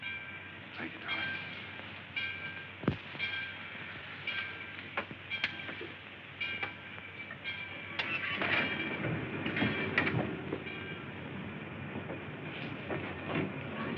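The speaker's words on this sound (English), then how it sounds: "the train's moving." A train rumbles along with clanking and rattling in the 1941 film Penny Serenade, steady and moderately close, with voices talking over it.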